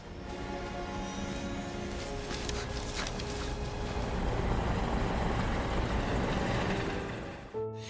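A helicopter flies in a film action scene, its steady whirring rotor and engine roar filling the mix loudly and swelling toward the middle before cutting off abruptly.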